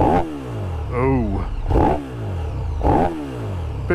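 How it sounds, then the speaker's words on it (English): KTM 1290 Super Duke EVO 2022 motorcycle engine revving hard, three quick throttle blips rising and falling in pitch with a crackling snarl between, close and loud. "bit faster revving, bit more angry sounding than the GT"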